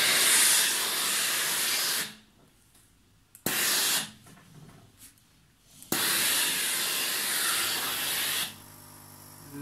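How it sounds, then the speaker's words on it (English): A steam iron hissing as it steams delicate clothing, two loud sustained bursts of spray separated by a quieter stretch with soft rubbing and a brief puff. "So what you do is you iron at the right side, but what you do also is just steam."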